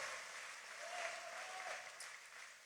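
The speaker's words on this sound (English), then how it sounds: "Give Brian a big round of applause" Audience applause at a JD Vance campaign event south of Holland fills the whole stretch as a steady, dense wash of clapping from a crowd, sustained and fairly even in loudness throughout.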